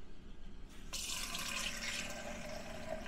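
Filtered water from a WaterDrop 10UA filter under an RV sink starts flowing into a cup after a brief click, then runs as a steady hissing stream that fills the cup, close and alone.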